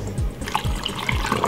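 Water pours into a blender in short glugging bursts, close by and fairly loud, with a trickling splash over the top.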